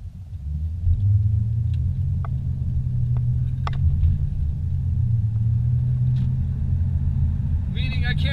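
An off-road vehicle drives a mountain road in the San Bernardino Mountains, its engine a steady low rumble throughout, with faint clicks and a brief squeaky sound at the end while someone talks over it.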